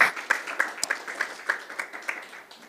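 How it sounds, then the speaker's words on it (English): Conference audience applause in a summit hall, heard as sparse, fairly evenly spaced claps with a light roomy tail, somewhat thin rather than a full roar. "Applause, please."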